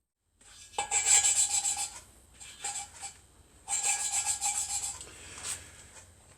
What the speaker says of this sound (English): I'm just reseating the valves, grinding them in.